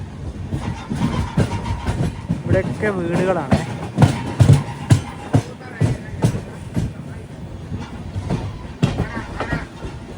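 The Mangala Lakshadweep Express, heard from inside a sleeper class coach, rolls near Jhansi with rhythmic wheel clatter and rail clicks under a steady rumble, while someone talks over it.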